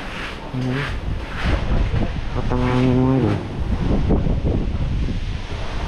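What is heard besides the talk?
strong wind during Typhoon Tino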